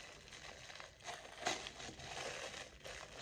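Plastic cup packaging crinkles and crackles as it is pulled open, a faint continuous rustle with a sharper crunch partway through, all at close range.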